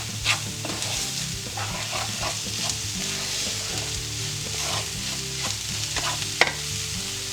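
Eggplant and mushroom mixture sizzling steadily as it toasts in a hot pan, with continuous frying crackle and occasional spatula scrapes and clicks against the pan throughout.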